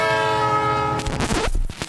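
A passing train sounds its horn in a long, loud, steady blast, then it cuts off into the rumble and clatter of the train going by close at hand.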